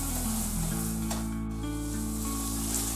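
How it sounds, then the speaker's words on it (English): Minced beef, onion and tomato puree stirred together in a pan, a steady close scraping and soft sizzle running continuously under a low constant hum. "Okay, give that all a really good mixing in."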